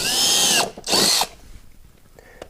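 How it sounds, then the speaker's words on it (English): A power drill bores pilot holes during auto paint and body work, two loud, steady whining bursts of about half a second each, then a quiet stretch with small clicks. "We drilled pilot holes."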